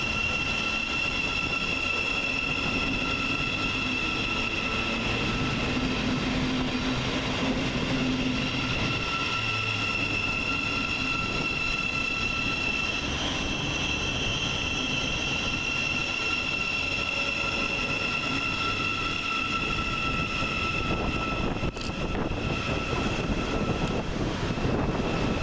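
A Class 700 Govia Thameslink electric train departs Luton station, its steady traction hum and rolling wheel noise sustained and fairly close, with a brief sharper clank near the end and no voices.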